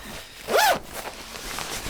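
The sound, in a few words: zipper on bag pocket being opened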